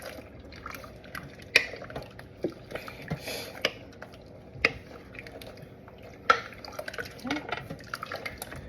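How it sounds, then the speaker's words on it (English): A spoon stirs a thick pot of pinto bean soup with Polska kielbasa and hamburger meat, giving soft wet squishes and intermittent sharp clinks against the pot at an irregular pace, fairly quiet and close. "I'm just going to mix this up really, really well"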